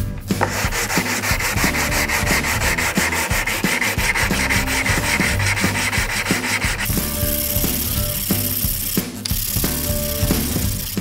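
Coarse sandpaper rubbed back and forth over a wooden dish drying rack part in rapid, steady rasping strokes, close and loud, with a brief pause near the end and no talking.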